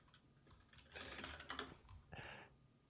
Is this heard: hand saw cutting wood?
no